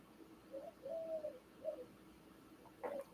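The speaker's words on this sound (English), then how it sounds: "So a dove or pigeon out here cooing." Outdoors, a dove or pigeon gives a few soft, faint coos in a short rhythmic series, heard alone against quiet background.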